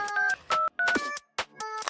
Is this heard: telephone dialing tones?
yes